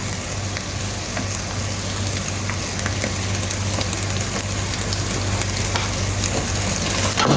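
Green chillies fry in a pan as part of a masala chicken biryani, giving a steady, dense sizzle with scattered crackles and a low hum underneath, close and continuous throughout.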